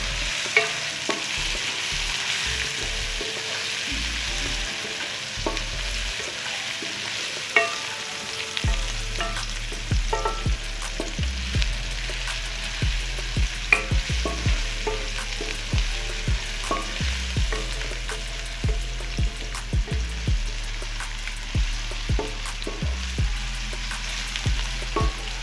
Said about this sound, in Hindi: इसको हम 1 मिनट के लिए मज़ीद फ्राई करेंगे।